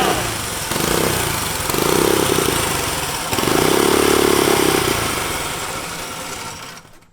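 A turbocharged Corvette go kart engine on a five-speed kart runs steadily with a throaty idle, swelling in loudness twice before fading out near the end, with no voices over it.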